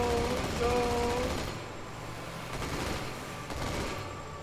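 Gunfire in the video game Halo 2: The Master Chief Collection, a dense rattle of automatic shots and bursts that continues across the moment, with excited voices talking over the opening seconds.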